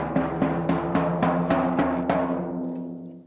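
A drum is struck about eight times at a steady pace while its skin is tightened, each hit ringing with a clear tone that climbs in pitch. The hits are close and fairly loud, with the ringing fading toward the end.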